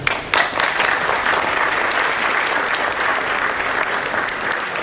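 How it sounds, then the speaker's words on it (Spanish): Sustained applause fills a congress hall on human rights for a parliamentarian, a dense crowd clapping loudly and evenly throughout with no pause. "Un aplauso para ella."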